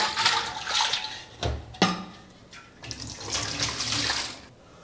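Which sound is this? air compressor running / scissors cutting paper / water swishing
water swishing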